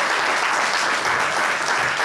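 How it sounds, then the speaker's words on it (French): A news conference crowd breaks into loud, dense applause after a cocoa price announcement, many hands clapping at once in a steady, unbroken roar with no voices on top. "Une annonce et un tonnerre d'applaudissements"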